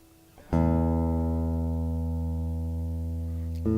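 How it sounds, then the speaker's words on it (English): An acoustic guitar being tuned before fingerpicking: a plucked string rings out loud and sustained for about three seconds, then is plucked again, with no talking. "Check my tuning really quick here"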